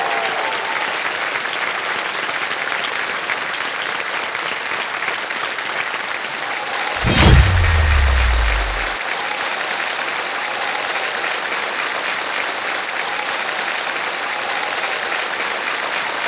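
Loud, sustained applause from a studio audience on a quiz show welcoming a two-time gold medal-winning athlete, continuous dense clapping with a brief low rumbling thud partway through.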